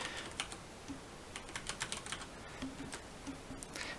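Typing on a computer keyboard, a steady run of quick, light key clicks with small irregular bursts, close and fairly quiet, with no talking.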